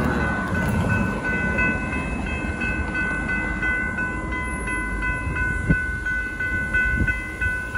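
A northbound Union Pacific coal train rolls past at a street crossing in Austin, Texas, a steady loud rumble of rail cars with horn tones sounding over the clatter.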